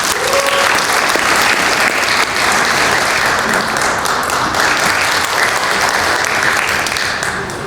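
An audience at a Korean business fellowship chairman inauguration ceremony applauds, a dense continuous clapping that stays loud and even for the whole stretch before tapering slightly at the end.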